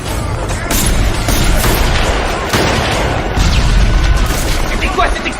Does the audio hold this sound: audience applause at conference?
no